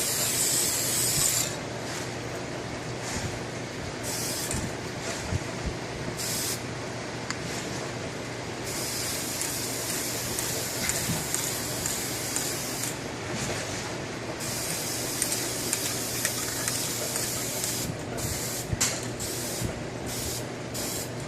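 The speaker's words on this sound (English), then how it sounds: "Make sure any imperfections are covered up and that the whole battery is covered in a nice and even layer of film of paint." Spray paint hisses in repeated bursts over a refurbished power-tool battery, the bursts starting and stopping irregularly against a steady background hum.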